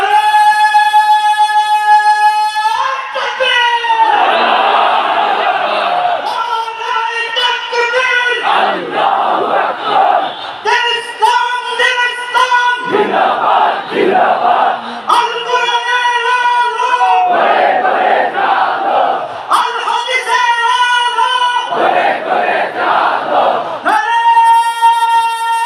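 A large crowd at an outdoor rally on a field in Sylhet chants takbir in loud, sustained waves, voices swelling together in alternating call and response phrases that repeat for the whole stretch.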